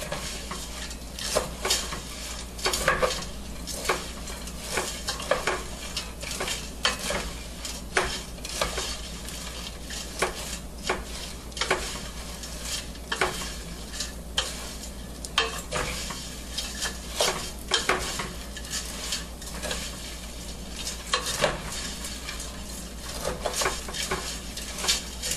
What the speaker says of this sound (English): Stir that up a little more, get those on.